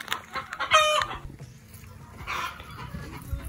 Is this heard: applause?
no